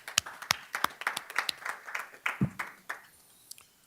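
A small audience at a school board business meeting claps for robotics students and mentors, a sparse, uneven patter of distinct individual claps that thins out and stops after a few seconds.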